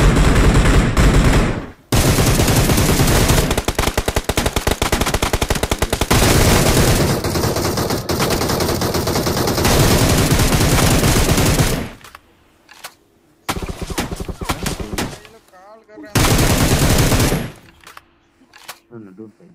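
Rapid automatic gunfire from the battle royale game PUBG, loud and sustained in long bursts with short gaps, then broken into separate bursts toward the end.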